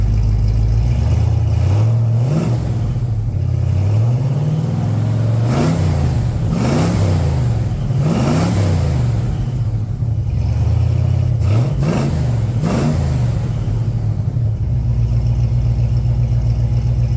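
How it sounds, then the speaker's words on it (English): A Ford XA Fairmont GS car engine sits at a steady idle, then is blipped several times in quick succession, each rev rising and falling, close and loud with no talking. "I'm going to give it a couple of cheeky revs for you guys to round out the video"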